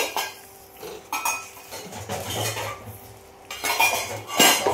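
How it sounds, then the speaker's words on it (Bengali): Elephant apple (chalta) pickle is stirred in a pot, the utensil scraping and clinking against the metal in irregular bursts of varied loudness, with no talking. "চালতা এই যে দিয়ে দিচ্ছি, ভালো করে নাড়িয়ে চাড়িয়ে মিশিয়ে নেব"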